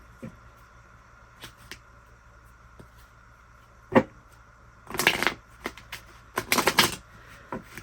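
Tarot cards are shuffled and laid out during a reading, with scattered soft taps early on, then a burst of riffling and slapping cards and a second flurry moments later, close and fairly quiet.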